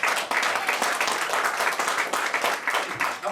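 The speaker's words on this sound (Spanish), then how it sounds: "Denle fuerte el aplauso al Señor porque Él se lo merece." A congregation claps loudly and steadily during a church service, a dense, continuous round of applause close by with no speech over it.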